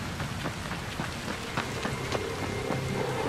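Rain falling in the video game Dying Light, a steady hiss of rain on surfaces with scattered distinct drop impacts, constant and moderately loud throughout, with no voices.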